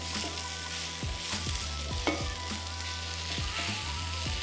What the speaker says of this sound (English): I'm just going to make sure we saute our spinach really well